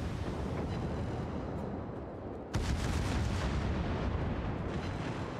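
Naval guns in the World of Warships video game: a low rumbling background, then one heavy, sudden booming salvo roughly midway that leaves a sustained roar after it.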